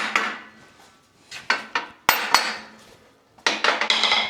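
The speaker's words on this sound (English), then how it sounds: "I'm just tapping everything home with a hammer, just making sure it's all seated" Hammer tapping metal frame parts into place on a Lister engine frame: several sharp, close metallic knocks in short clusters with ringing decay and pauses between, no talking.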